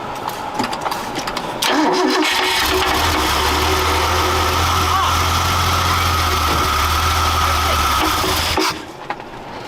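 A carburetor engine with no choke cranks and catches, settling into a steady, loud idle with a low rumble that runs for several seconds before cutting off, with a voice talking briefly early on.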